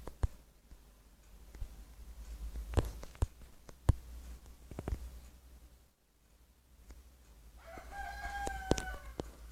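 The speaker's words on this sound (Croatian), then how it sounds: "Treba mi trave za kokoši, da ih privabim." Chickens with a rooster crowing, a few separate crows and clucks spread over the stretch, fairly distant and moderate in level above a low background rumble, ending in a louder bird call.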